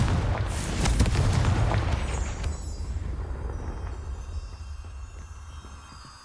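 Confringo blast spell explosions in Hogwarts Legacy, a deep booming burst up front that rolls into a long fading rumble with crackling debris, loud and close, no talk.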